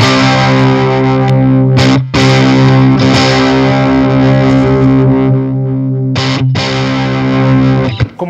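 An electric guitar played through a Wampler Pinnacle Deluxe distortion pedal at moderate gain, loud sustained distorted chords ringing out, with two brief breaks between strums.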